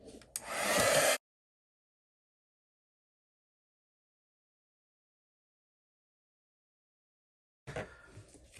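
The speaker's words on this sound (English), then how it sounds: "I have my heat tool here and I'm gonna go ahead and heat up the sentiment" A heat tool blows hot air over an embossed card sentiment in a loud, steady roar of about one second, followed by a long silence before the airflow rises again near the end.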